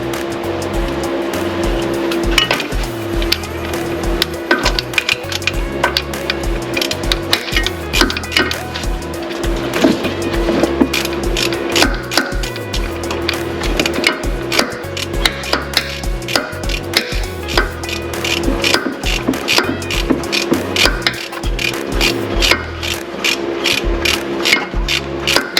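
Ratchet tightening a bolt on the AC belt tensioner pulley of a Yukon: a steady run of rapid, loud clicking that carries on and off for about 25 seconds, close to the mic, with no talk over it.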